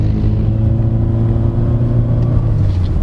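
A 2024 Toyota Corolla Cross Hybrid G on 16-inch wheels accelerating in power mode, giving a steady, loud low engine drone and rumble that holds throughout with no speech.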